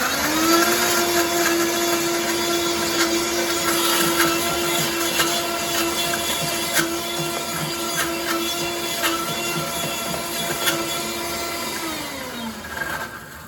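A blender churns raw vegan mango pie filling during a live kitchen demonstration, giving a loud, steady motor whine that runs nonstop for about thirteen seconds before winding down, with no talking over it.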